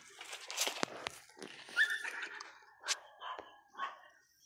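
A few sharp, distant dog barks scattered over a few seconds in a backyard, faint and irregular, with small rustles between them.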